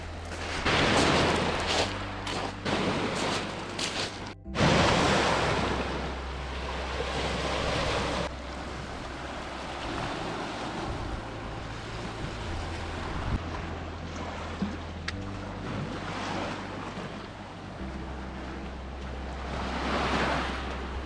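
Waves wash steadily onto a wet Lake Superior shore along a coastal trail, a continuous rushing surf with gusts of wind buffeting the microphone, swelling louder at moments and carrying on without speech.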